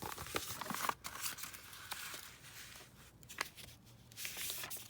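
Paper being folded and squished for a craft project, close rustling, crinkling and crisp creasing noises in irregular bursts with brief pauses between.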